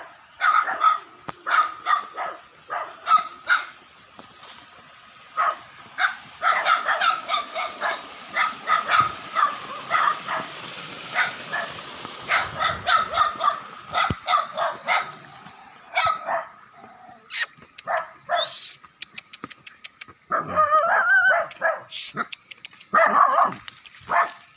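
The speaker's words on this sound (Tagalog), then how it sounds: "Tinatahol na ako ng mga aso." Several dogs bark repeatedly at a person exploring a rural mountain area, with sharp, irregular yaps and barks near and mid-distance, along with some whimpers, while a person talks intermittently.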